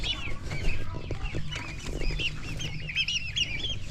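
Several turkeys cluck and gobble in short bursts close by, with a low rumble and rustling beneath, busy and overlapping throughout.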